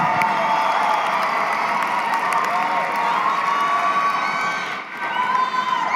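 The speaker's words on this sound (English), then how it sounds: "give them a great round of applause" A large commencement audience for counseling, healthcare and nursing graduates cheers and applauds continuously, with whoops and shouts blending into a dense, sustained roar and a brief dip near the end.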